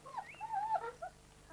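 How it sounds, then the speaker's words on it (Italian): Wolf pups play-fighting, giving thin high whimpers and whines in a few short bursts, faint and close, with no voices. "I cuccioli cacciatori passano ore ad azzuffarsi giocosamente."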